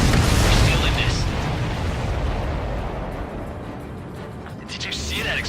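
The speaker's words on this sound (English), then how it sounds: "Did you see that explosion?" A deep, roaring blast from a fighter-jet combat game opens loud and close, then rolls on as a long rumbling decay, with clean radio-style chatter and high engine whine over the tail.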